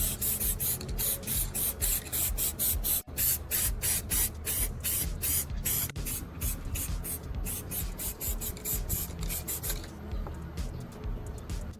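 A spray can lays light, even coats of white paint onto a sawdust-and-cement pot in quick repeated hissing bursts, close and fairly steady, with brief pauses between passes.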